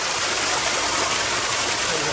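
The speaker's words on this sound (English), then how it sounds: "There's like another waterfall up in there." A stream and waterfall rush at Silver Falls on a forested Oregon trail, a loud, continuous wash of falling water filling the whole moment without pause.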